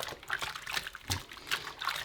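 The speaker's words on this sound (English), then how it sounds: "I'll get some warmer soapy water and give it like a final hand wash" Wool dyed with onion skins being hand washed in warm soapy water, giving soft irregular splashes and trickles in short bursts, close by and fairly quiet.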